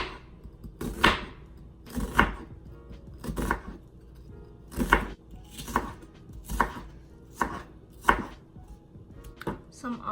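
A knife chops olives on a cutting board in Dominican home cooking, about a dozen crisp, close thuds at a loose, steady rhythm, with no talk.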